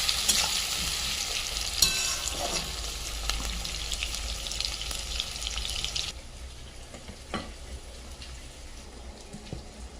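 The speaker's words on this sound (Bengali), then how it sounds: "পেঁয়াজগুলো ভালো করে ভেজে নেব।" Onions fry in a pan for a cauliflower curry, giving a steady loud sizzle with scraping stirs and a running tap in the background that drops away halfway, leaving quieter frying with a few utensil knocks.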